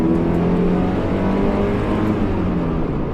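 A Mazda MX-5's small four-cylinder engine revs hard and steadily, a loud, sustained mechanical drone heard from inside the car with no talking.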